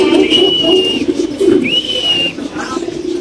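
A male pigeon at a fancy pigeon farm gives repeated cooing calls, close and fairly loud, with a couple of rising whistle-like tones sliding over the coos amid faint background noise.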